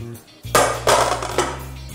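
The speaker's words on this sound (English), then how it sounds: "Take a cooker." Metal clatter of a pressure cooker being picked up and set down in a kitchen, a few clanking knocks with a steady hum underneath and a voice briefly present.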